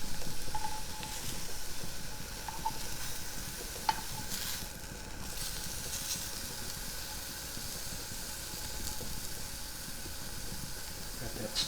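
Shrimp and scallops sear in a dry pan, a fairly quiet, steady sizzle and hiss close by with a few faint clinks and tool taps along the way.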